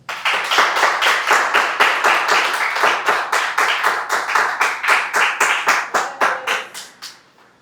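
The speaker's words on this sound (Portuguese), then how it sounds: "Se você pode, aplauda ao Senhor." A church congregation claps together in a steady, fast rhythm, about four claps per second, loud and close, the applause holding even before slowing and fading out in the last second.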